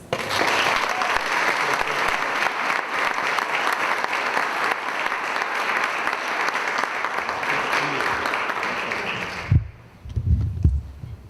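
Sustained applause from a large audience, dense and even clapping that continues for several seconds before stopping abruptly.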